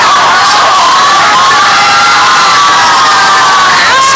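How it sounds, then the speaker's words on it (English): A large crowd at a live trivia competition event cheers and screams loudly and continuously, with shrill whoops rising above the roar throughout. "Crowd rooting for Jay Washington screaming for Jesus and opponent's choice."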